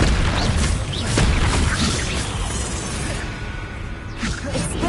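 A Confringo spell blast in Hogwarts Legacy during a duel, loud booming whooshes and crashes that fill the moment and then settle into a roaring tail.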